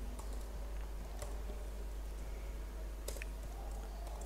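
Computer keyboard typing while entering a Java compile command on a PC: a steady patter of light clicks with a few sharper key strikes, close and quiet, over a constant low hum, with no talking.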